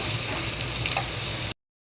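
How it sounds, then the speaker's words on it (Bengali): Chopped onion frying in oil in a frying pan gives a dense, even sizzle, loud and close, that runs for about a second and a half and then cuts off to silence. "পেঁয়াজটা একটু লাল লাল করে সুন্দর করে ভেজে নেব।"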